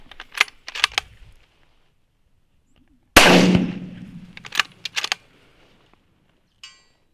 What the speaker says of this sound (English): Shoot the doe, shoot the doe, shoot the doe!